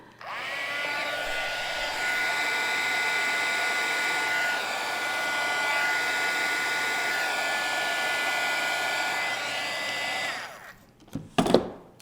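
Heat gun blowing hot air on its high setting while shaping a discarded plastic soda bottle into a flower; a steady, loud whooshing drone runs for about ten seconds, then cuts off, followed by a few brief clicks and knocks.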